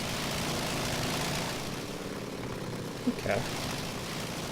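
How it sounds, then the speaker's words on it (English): A homemade sports car in a Homebrew game idles with a steady, buzzy engine drone, joined near the end by a couple of short clunks, while a voice speaks briefly over it. "I love the engine sound, but it's kind of inaccurate for the car that it is, or the engine that it is"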